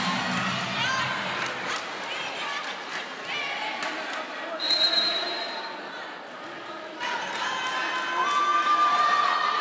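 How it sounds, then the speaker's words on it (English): Crowd at a women's college volleyball match between SMU and Stephen F. Austin swelling into an ooh and aah after an attack, a broad arena roar rising in waves with faint talk and squeaks beneath. "You could hear the crowd ooh and ah on that attack by Jones."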